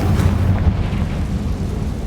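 A Confringo blasting spell in the Hogwarts Legacy video game bursts into a steady, deep explosive rumble that stays loud and close throughout.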